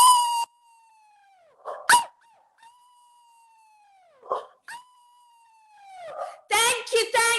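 A group of people imitate howling together, long sliding wolf-like howls rising and falling one after another, with voices overlapping in a louder burst of howls and yelps at the end.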